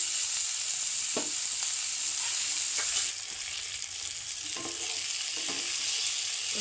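Vegetables with potatoes frying in a pan for a fish curry with okra, a steady hiss of sizzling under a few brief scraping stirs, close and fairly loud, no voices.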